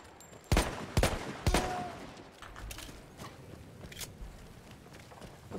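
Video game gunfire: three loud sharp shots in quick succession, then fainter scattered shots and distant pops trailing off, with no talking.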